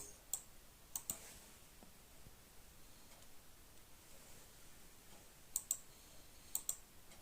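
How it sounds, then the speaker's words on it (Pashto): A handful of faint, sharp clicks from a computer mouse while a lyrics video is edited in InShot. They fall in quick pairs near the start and again near the end, against a very quiet background hiss. "فلټر باندې به کلیک واخلئ، افیکټ باندې به بیا کلیک کوئ"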